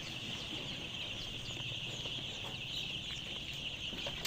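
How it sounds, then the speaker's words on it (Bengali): White layer chicken chicks at a poultry farm peep and cheep continuously, a busy chorus of thin high calls over a low hum, moderately near and with no talking. "ক্যামেরার সামনে আপনারা যে বাচ্চাগুলো দেখতে পাচ্ছেন, এটা হচ্ছে লেয়ার মুরগির বাচ্চা।"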